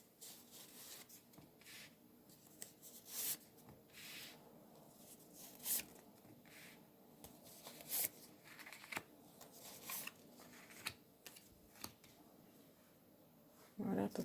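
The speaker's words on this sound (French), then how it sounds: "je pose les cartes d'abord" Tarot cards being laid down and handled on a table, soft scattered slaps and sliding rustles at close range, faint and irregular, in a quiet room.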